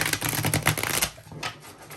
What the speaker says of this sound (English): What kind of shuffle is this? Like the riffle shuffle? But I can do it.